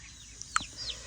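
Chickens cluck faintly in short, soft calls over a low background murmur.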